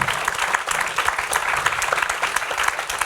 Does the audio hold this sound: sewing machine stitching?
no